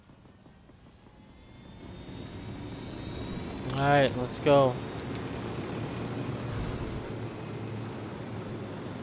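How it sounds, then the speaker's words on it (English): Steady helicopter engine drone from Ghost Recon Wildlands runs through the whole clip, swelling slightly midway, while someone speaks briefly over it. "I get back in the helicopter."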